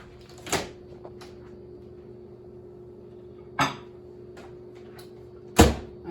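Three sharp clunks spaced a few seconds apart, a microwave door being opened and shut, over a steady low electrical hum.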